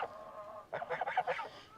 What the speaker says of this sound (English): Does he not look like a full-grown goose now?